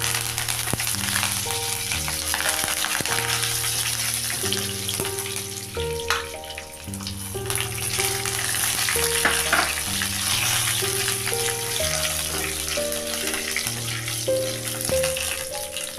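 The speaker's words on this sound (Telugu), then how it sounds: "మిర్చి, ఎండుమిర్చి వేగాలి, బాగా వేగాలి." Garlic with red and green chilies frying in hot oil for mango dal, a steady broadband sizzle running throughout under a continuous musical background.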